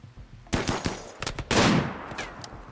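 Gunfire in the colony-building video game RimWorld: a handful of sharp, loud shots and short bursts crack out over about three seconds, with the densest, longest volley near the end, set against a low background hum.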